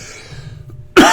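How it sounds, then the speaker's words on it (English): A sharp, loud cough from someone getting over a cold bursts out at the end, after nearly a second of quiet room tone. "I'm going to cough like crazy."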